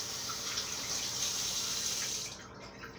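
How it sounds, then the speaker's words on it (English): Warm water runs from a kitchen tap as hands are rinsed underneath, a steady close splashing hiss that cuts off near the end. "I'll wash my hands briefly."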